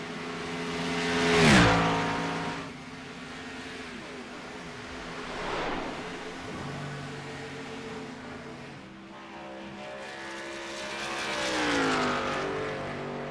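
Simulated Cup Series stock cars racing at Texas in a video game, engines droning continuously with several cars passing close by in loud pitch-sweeping whooshes, the pack's roar rising and falling throughout with no talking.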